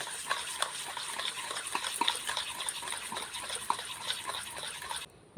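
Egg being beaten into melted sugar in a bowl for a mango cake, heard as a steady scraping, clicking whisk rhythm that runs continuously and then stops abruptly.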